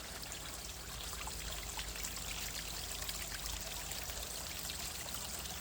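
Steady, soft trickling and splashing of a small backyard waterfall runs without pause, a continuous gentle wash of flowing water with no voices.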